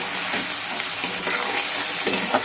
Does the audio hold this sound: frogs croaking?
no